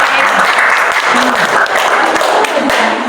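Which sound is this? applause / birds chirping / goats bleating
applause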